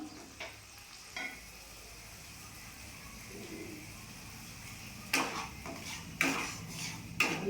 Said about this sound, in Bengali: টমেটোটা ভাজতে ভাজতে এই যে মশলাটা সব পেস্ট করে রেখেছিলাম মশলাটা দিয়ে দিলাম